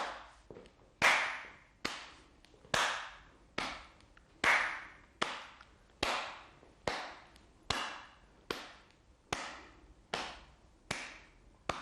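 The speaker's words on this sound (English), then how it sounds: "And now your taps and claps." Foot taps and hand claps during a seated chair exercise routine, about fourteen crisp, sharp hits in an even, regular rhythm, each ringing briefly into a quiet room.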